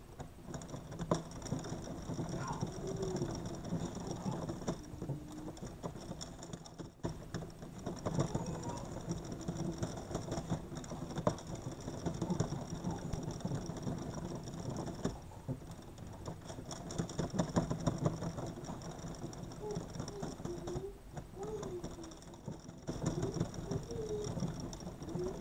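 An Addi knitting machine is cranked to knit mittens, giving a continuous soft mechanical rattling and whirring that runs steadily and fairly quietly for the whole stretch, with no talk.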